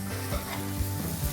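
Grated carrot for gajar halwa fries in a pan, giving off a steady, close sizzle with the soft scrape of stirring now and then.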